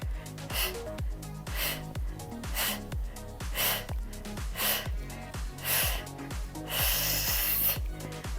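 A woman exhales forcefully in a steady rhythm during an aerobic step workout, with each breath landing on the beat of pounding workout music.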